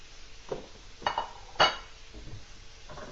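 A few light clinks of a plate and utensils as seared fish is moved onto a clean plate, scattered soft knocks close by in a quiet kitchen.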